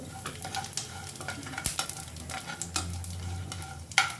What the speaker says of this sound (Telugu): ఆవాలు, జీలకర్ర వేస్తున్నాను.